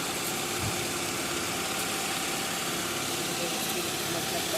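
An overhauled Toyota 2EZ-FE engine in a Toyota GLI runs at a steady idle, a continuous mid-low rumble with faint vibration and no revving.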